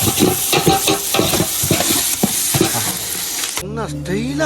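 Onions sizzle and crackle steadily in a hot pan for village-style biryani, with repeated stirring scrapes throughout, then the frying noise cuts off abruptly near the end, leaving a tonal, music-like sound.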